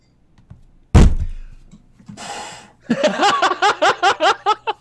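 Dice tumbling across a table for a tabletop role-playing attack roll, a sharp thunk followed by a short clatter, then a quick run of rhythmic rattling bounces as they settle, with faint murmuring and laughter nearby.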